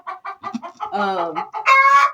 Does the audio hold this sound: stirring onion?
no